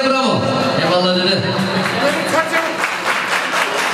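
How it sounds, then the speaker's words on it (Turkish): Guests at a circumcision party in Belgium clap and cheer for a grandfather, busy applause blending with festive music and lively chatter close by. "Alkışlar dedeye bravo."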